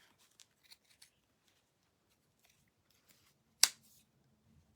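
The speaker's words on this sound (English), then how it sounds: "that's cutting through the seam at the waist facing" Scissors cutting through the bulky waist facing seam of pants, a few faint snips followed by one loud, sharp close cut, then quiet.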